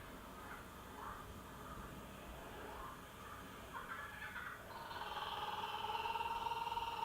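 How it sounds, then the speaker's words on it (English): A kookaburra's laughing call, faint and distant, rises into a cackling chorus partway through, set against steady background noise. "Do you hear the kookaburra?"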